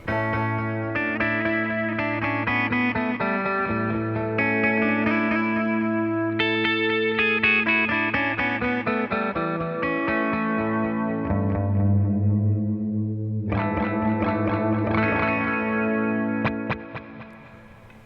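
Electric guitar phrases play through a Fractal FX8 delay block with diffusion, giving smeared, echoing notes and sustained chords that run continuously for many seconds, with no talk.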